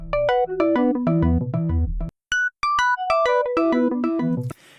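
A resampled, delayed synth sound pitched an octave down, chopped into a run of tonal notes that pauses briefly and then resumes with a few sparse high blips before a quick fade, with no one talking.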